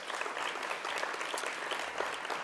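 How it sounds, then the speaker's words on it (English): A pitch-event audience claps together, a busy, crackling patter of many hands at moderate loudness, steady across the short stretch with no voices standing out. "I think you should clap all that because that's pretty amazing."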